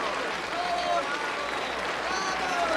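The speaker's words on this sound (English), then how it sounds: "They'll never stop applauding." A crowd applauds a piano performance with steady, dense clapping, loud and continuous, with a faint voice mixed in underneath.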